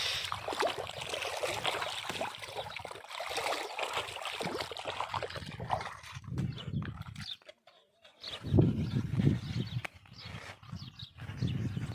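Rainwater flows and splashes across desert ground after a downpour, a rushing watery texture with uneven surges, briefly dropping away before returning, and heard up close.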